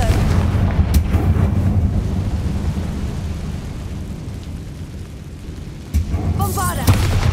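Confringo fire spells in the Hogwarts Legacy video game explode as a continuous rumbling roar of blasts, with a sharper impact near the end.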